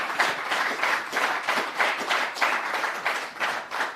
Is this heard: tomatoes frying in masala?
no